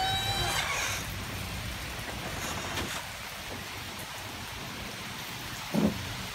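Nighttime thunderstorm with steady rain hissing throughout and a brief sharp crack of thunder or impact near the end, heard from outside a house.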